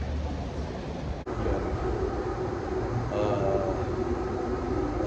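Steady, loud rumble of a rail car riding along the track, carrying a continuous roar with a brief dip and a faint tonal squeal partway through, heard from inside an urban transit train with no one talking.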